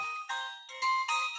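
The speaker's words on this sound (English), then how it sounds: "that was my phone." A mobile phone ringtone plays a bright electronic melody of sustained tones that step between pitches, heard alone at moderate volume with no talking.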